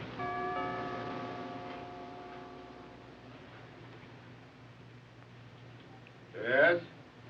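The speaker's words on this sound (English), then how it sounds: "ring the bell." A bell chimes with a long ringing tone that slowly fades, followed a few seconds later by a short burst of a buzzer-like ring.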